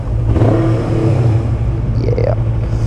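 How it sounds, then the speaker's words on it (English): A motorcycle engine idles close by, then gets a short throttle blip that rises in pitch and falls back, with a low rumble running underneath. "Let's give it a little rev."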